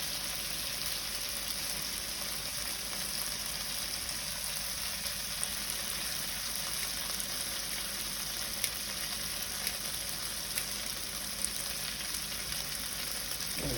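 Bacon fries in a pan, a steady, faint crackle and hiss lasting throughout, with a few small pops and light clicks of utensils, and no one talking.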